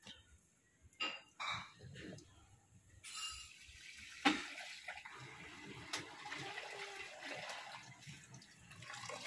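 Water flows and splashes inside a TCL washing machine during its rinse cycle, quiet and uneven, with sloshing surges and a few sharp clicks and knocks.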